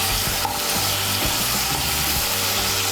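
Fried potatoes stirred into a thick frying spice masala for a Bengali vegetarian soyabean kofta curry, giving a loud, close, steady sizzle with scraping spoon strokes throughout.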